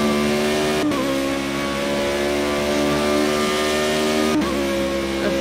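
Formula Renault single-seater race car accelerating hard around the Brands Hatch Indy circuit, a loud steady high-pitched engine drone with rising harmonics and two quick gearshift breaks, close and continuous with no talking.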